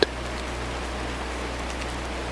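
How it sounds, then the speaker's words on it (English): Steady rain falls as an even, soft hiss with a low constant hum beneath, unbroken and without talk after a single faint click at the start. "listening to the steady rain sounds and the soft 432 Hz music continuing in the background"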